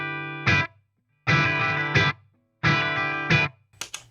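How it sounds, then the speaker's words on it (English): Electric guitar played straight through an amplifier with no effects pedal and no reverb, three loud strummed chords that each ring about a second, each ending in a sharper accent, with dry gaps between them and a brief final flick. "So this is only my guitar through my amplifier."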